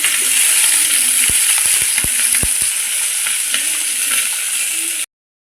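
Fish sizzles loudly and steadily in hot oil, close up, with a few faint clicks and taps over the constant hiss before it cuts off abruptly.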